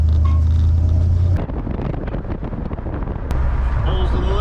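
1950 Ford F1 pickup truck driving, with a low engine hum that gives way to rough, rattling road and wheel noise from the rear, and people talking inside the cab.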